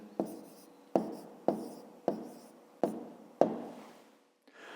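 Pen or pencil strokes on paper while numbers are written out for a fifth-grade divisibility exercise, six sharp scratchy taps spaced roughly evenly, close and clear with no talking.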